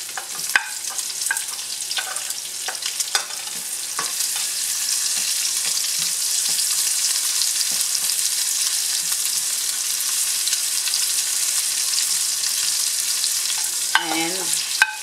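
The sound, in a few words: shallots sizzling in pan for shrimp and pork pinakbet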